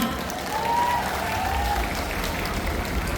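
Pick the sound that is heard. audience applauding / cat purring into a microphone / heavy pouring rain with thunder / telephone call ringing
audience applauding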